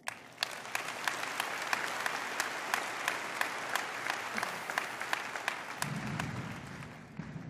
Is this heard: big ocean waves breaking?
no